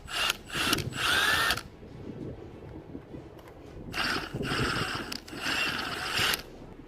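Power drill backing two screws out of an aluminium sliding door handle, with three short bursts of whirring spin separated by quieter pauses, close and fairly loud.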